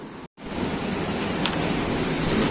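Sea waves rolling in at high tide on a rocky Konkan shore, a steady broad wash of surf with wind noise, loud and continuous after a brief dropout at the start, with no voices.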